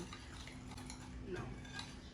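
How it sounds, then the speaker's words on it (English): Brownie batter being stirred in a bowl with a spatula, producing soft, quiet scraping and clinking strokes in a steady rhythm, close up and faint. "we mix that in. Should I be using a wooden spatula?"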